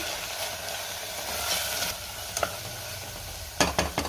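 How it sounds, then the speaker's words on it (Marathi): Spice powders sizzle in a hot pan for tomato pulao, with a steady close frying hiss and a few sharp scrapes and clinks of a spoon stirring, with no speech. "आता हे सगळं व्यवस्थित मिक्स करून घेऊया।"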